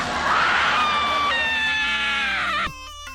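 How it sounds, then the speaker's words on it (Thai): A shrill monster scream from the Teletubby-like creature in the rhythm game Friday Night Funkin', loud and sustained for about two and a half seconds before cutting off abruptly, with a short fainter tonal tail afterward. "เสียงกรี๊ดเมื่อสักครู่นี้มันมาจากไอ ไอเซเลนเดอร์ทับบี้อะไรล่ะ"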